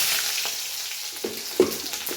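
Onions frying in oil in a pan with whole spices, a continuous close sizzle with a few soft stirring clicks and pops, no talking.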